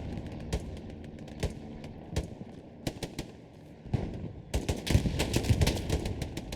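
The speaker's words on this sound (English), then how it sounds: "Bober DJ taking some shots here" Gunfire in the Hell Let Loose video game: scattered single shots and short bursts crack in an uneven rhythm, some sharp and near, others fainter, building into denser firing toward the end.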